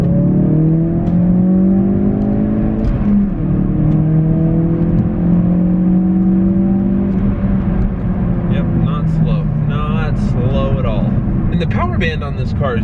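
A Ford Focus RS accelerates hard, its engine note rising steadily and loudly from inside the car, then shifting, with a voice speaking near the end.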